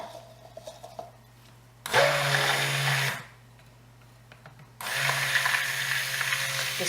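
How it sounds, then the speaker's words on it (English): A stick blender whirs in two loud bursts of a couple of seconds each while mixing soap, separated by a pause with faint clinking and handling noises. "we're going to hear the stick blender for a few seconds"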